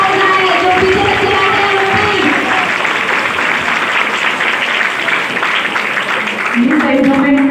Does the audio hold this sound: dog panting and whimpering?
no